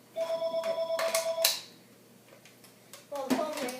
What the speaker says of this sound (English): Well, the phone ring, I'll just let my brother answer that.